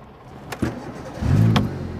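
A car engine cranks and catches, a couple of clicks followed by a rumbling start that settles into a steady idle close by, with no voices over it.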